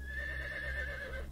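A horse neighs in one sustained whinny with a wavering, quivering pitch, close and clear, filling the short moment alone.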